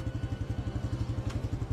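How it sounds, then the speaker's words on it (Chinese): A motorcycle engine roars as it charges forward down a city road, heard as a steady, rapid, throbbing low pulse close by, with no voices. "马达轰鸣"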